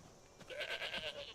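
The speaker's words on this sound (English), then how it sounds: "Oh, there's a goat wandering around town." A goat in Skyrim, wandering through a town, gives a short quavering bleat in several pulsing beats, fairly close and clear over quiet background.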